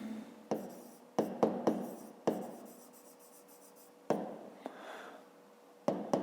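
A pen scratches across paper while a math solution is written out, in separate strokes and taps with quiet pauses between them, close and dry with no voices.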